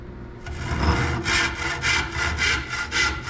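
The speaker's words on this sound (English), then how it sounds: "Gonna get my saw," A hand saw cuts through wood clamped in a vise for a simple cutting board, with a short start followed by about six steady, close rhythmic rasping strokes and no talk.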